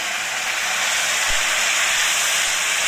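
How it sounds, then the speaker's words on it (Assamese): Marinated potatoes frying in hot oil in a kadai give a loud, even, close sizzling hiss that stays constant for the whole three seconds. "এতিয়া মোৰ কেৰাহীত তেল গৰম হৈ গ'ল। মই এতিয়া আলুখিনি ঢালি দিম ইয়াতে।"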